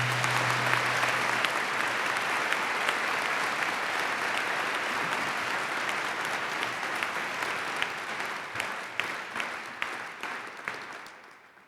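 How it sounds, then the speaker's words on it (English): An auditorium audience applauds a young wind ensemble and its director at a state education address, a dense, steady clapping that gradually thins toward the end with a few last scattered claps. "Please join me in giving them another round of applause."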